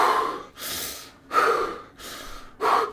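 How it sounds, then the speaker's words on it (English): Heavy, tired mouth breathing after exercise, three loud gasping inhales with breathy exhales between them, close and alone with no talking. "when you exercise, you're tired and then you start breathing probably through the mouth like this"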